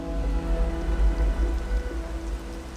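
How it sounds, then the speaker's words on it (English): Steady rain falls and patters on surfaces in Medellín, Colombia, a dense continuous hiss over a low rumble, with no talk. "The rain came upon us as we entered our last and most peculiar stop of the day."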